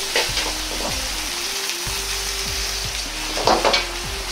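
Ground meat stir-frying in a pan for a Chinese-style meat omelette, a steady close sizzle with scraping stirs and light clinks of the utensil against the pan, slightly louder near the end, with no voices.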